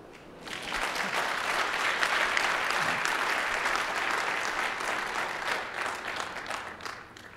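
A church congregation claps together during a sermon, a dense, sustained round of many hands that holds steady for several seconds before easing off near the end.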